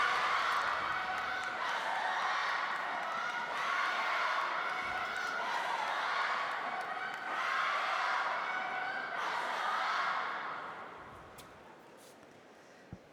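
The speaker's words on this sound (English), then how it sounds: "The crowd are certainly making a noise, aren't they, Guy?" A large crowd at a 2019 women's singles table tennis semi-final makes a sustained loud roar of cheering and noise that swells in waves, then dies down toward the end.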